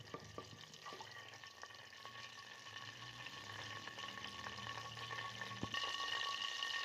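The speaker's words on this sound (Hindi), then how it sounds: "ऑयल हमारा अच्छे से गरम हो गया, अब हम इसके अंदर डाल देंगे ज़ीरा। ज़ीरे को हम थोड़ी देर पका लेंगे।" Cumin seeds frying in hot oil for a stuffed eggplant dish, a faint, steady crackling sizzle that grows slightly louder toward the end, with a few soft clicks and no talking.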